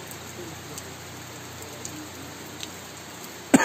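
Steady rain falling at a farm in rural Sucre, Cauca, a soft, even hiss of rain with a few faint drop taps, ending in a sudden loud close knock.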